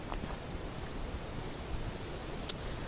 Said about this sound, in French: Vous entendez le vent, mais on est à l'abri.